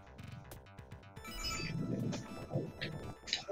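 Phone ringtone going off amid a busy, cluttered mix of other sounds, faint and tonal, repeating in short bursts.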